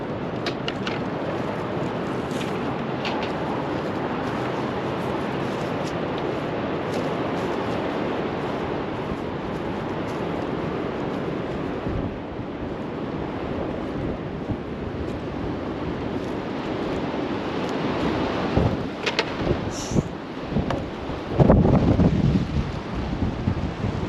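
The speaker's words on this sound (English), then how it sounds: "it's pretty dang windy" Strong gusty wind buffets the microphone in a constant loud roar, swelling harder near the end.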